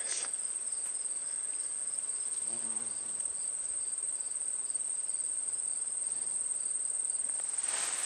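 Bumblebees and honeybees buzzing beside a Minnesota corn field in late summer, a steady close insect drone with a persistent high chirring over the whole stretch, no voices.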